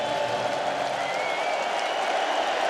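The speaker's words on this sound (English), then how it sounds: "Crowd singing," Stadium crowd at a 2002 Monday Night Football game, Pittsburgh Steelers at New England Patriots, singing together as a steady, dense roar of many voices that holds at a constant level throughout.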